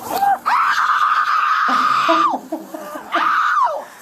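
A woman screams loudly and shrilly in sustained bursts during a tense roadside confrontation after a fender bender, with short gasping breaks between cries and a low voice heard briefly underneath.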